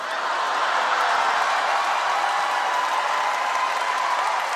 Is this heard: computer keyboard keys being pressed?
no